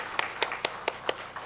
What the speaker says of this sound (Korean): 우리 잘 다녀오라고 박수로 격려하겠습니다